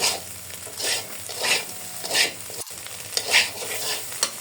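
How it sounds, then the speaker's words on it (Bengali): An egg frying in a pan while being stirred, with bursts of sizzle rising and falling in a steady rhythm, fairly close and moderately loud, with no voices. "আমি ডিমটাকে ভালো করে ভেজে নিব, ডিমের কাঁচা ফ্লেভারটা একেবারে যে চলে যায়"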